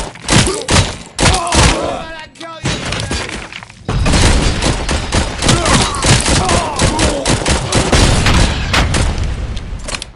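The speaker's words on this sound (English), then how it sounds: "Throwing grenade!" Gunfire and explosions in the Robocop video game after a grenade is thrown, loud dense bursts of rapid shots and heavy booms filling the whole stretch with barely a pause.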